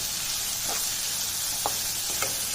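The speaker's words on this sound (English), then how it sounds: "Now we will cook the onions until it is done." Onions frying in a kadai for a white pumpkin curry give off a steady broadband sizzle, with a few faint clicks from stirring over the hiss.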